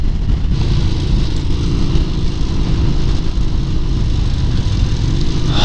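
A Yamaha SRV250 Renessa motorcycle rides around Suzuka Circuit, its engine droning loud and constant close to the microphone, with heavy wind rumble throughout and no clear gear changes.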